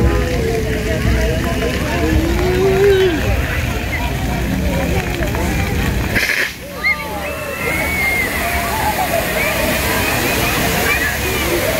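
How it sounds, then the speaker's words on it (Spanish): Water gushes loudly under pressure from a large pipe fed by a big pump, a continuous roaring splash with a brief dip midway, as if a gust or shift in the stream passes. "Esa es la gran presión del agua."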